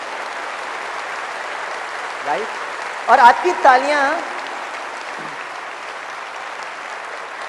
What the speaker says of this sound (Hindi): दिल से उनके लिए तालियां बजाइए